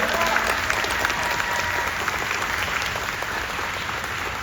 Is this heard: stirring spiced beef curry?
no